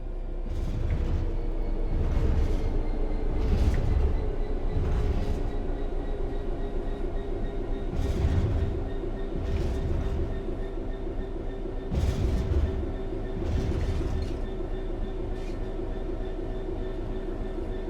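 A train coasting on level track in Train Sim World 3: a steady low rumble with faint periodic clicks and wheel thumps recurring every few seconds, continuous and moderately loud, with no voices.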